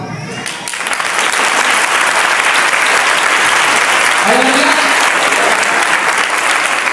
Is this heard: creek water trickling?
no